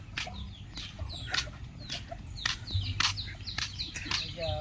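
Free-range chickens cluck and chirp in short, scattered bursts on a pig farm, with faint speech underneath and steady low farmyard noise.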